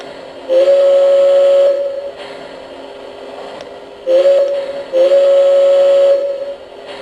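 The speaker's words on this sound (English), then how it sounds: "The whistle." A loud model train steam whistle from a Lionel LionChief Plus 4-6-0 CNJ Camelback sounds three times, one long blast, then a short one and another long one, over a steady mechanical hum.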